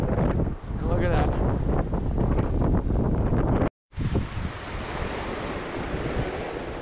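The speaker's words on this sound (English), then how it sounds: "It is super windy" Strong coastal wind buffets the microphone in loud, rough gusts with surf roaring underneath; after a brief dropout the wind and waves resume.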